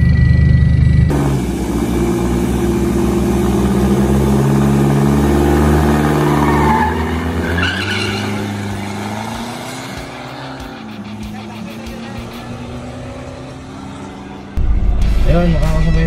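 Diesel cars at a Mindanao drag race, including a Toyota Fortuner, rumble and rev loudly nearby, engine pitch climbing and falling before dropping to a lower idle, with a sudden louder burst at the end; voices talk over it.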